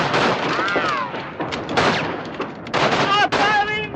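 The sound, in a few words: gunfire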